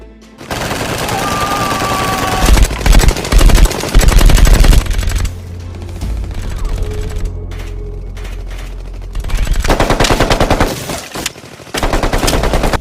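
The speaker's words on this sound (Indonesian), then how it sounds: "hingga akhirnya mereka semua baku tembak yang menyebabkan korban dari kedua pihak." Rapid automatic gunfire and single shots ring out in a shootout scene from the action film The Raid, set in a criminals' building, with loud dense bursts in several runs, short pauses and clattering impacts between them.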